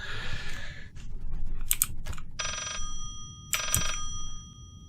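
Telephone ringing in the horror video game Layers of Fear, two bursts of bright electronic ringing separated by a pause, fairly close over low background rumble and faint clicking.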